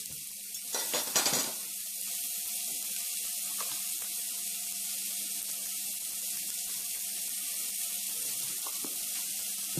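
Raclette-cheese sandwich frying steadily in a pan, a continuous close sizzle with a brief clatter near the start, then an even crackling hiss that carries on alone.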